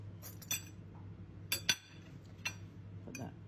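A utensil clinks sharply against a dish several times, quiet and close, while vegan butter is mixed into an air-fried jacket potato.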